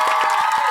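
A burst of excited cheering from a group of children in a classroom, loud and close, with a hint of clapping underneath.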